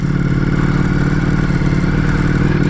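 A Ducati Multistrada V4 Pikes Peak motorcycle pulling away sounds as a loud, close, steady engine drone with a mechanical clatter. It holds an even level throughout and no voices are heard.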